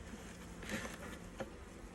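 Honey bees from a shaken package buzz steadily while being installed in a new hive, a faint close hum with a couple of brief louder bumps.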